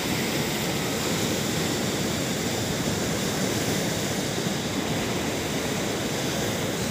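Sea waves at Tran Hung Dao beach on Phu Quoc, Vietnam, in a rough season, make a steady, dense roar of broadband surf that holds the same level throughout, with no distinct breaks and no voices.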